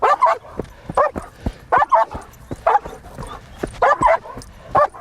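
A police K-9 dog barks in quick, loud, close bursts, with yips and whimpers between the barks and some handling noise in the background.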